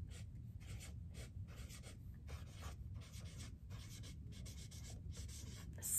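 Pen or marker scratching across a surface in short bursts, faint and close, as a character's name is written out stroke by stroke with brief pauses between letters.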